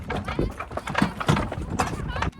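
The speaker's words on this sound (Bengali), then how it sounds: "ঘোড়া ছুটছে, আমরা রীতিমতো দৌড়াচ্ছি" Horse-drawn cart on a riverside char of the Padma at Char Shalepur, with horse hooves clip-clopping in a quick running rhythm close by, mixed under ongoing conversation.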